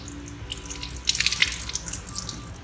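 Water runs from a tap and splashes into a sink while makeup brushes are rinsed, rising into a brief, brighter gush midway, with no voices present.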